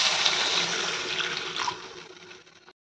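Water is poured into a cooking pan while an ilisi fish curry is being made, a brief steady rushing pour that fades out after a couple of seconds.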